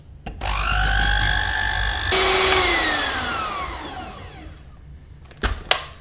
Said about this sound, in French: J'ai sorti mon batteur électrique et je vais maintenant les monter en neige.